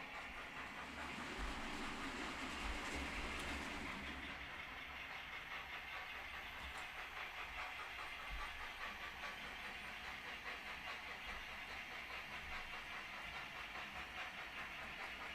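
A model 9F steam locomotive running on a layout track, heard as a faint, steady hiss and rumble that carries on without a break.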